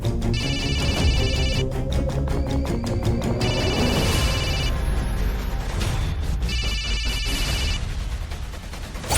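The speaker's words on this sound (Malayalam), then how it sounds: "നിങ്ങളെന്താ ഫോൺ എടുക്കാത്തെ?" A telephone rings in repeated electronic bursts, with pauses between the rings, alongside other background sounds; loud and close.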